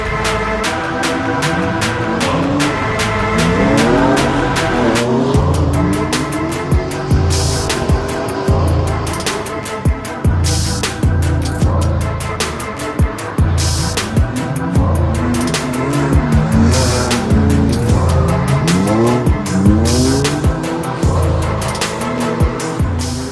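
A race car heads out onto a winter battle series circuit for practice, engine revving loud and close with repeated rising and falling throttle sweeps, gear changes and bursts of tyre squeal, continuous with no talk.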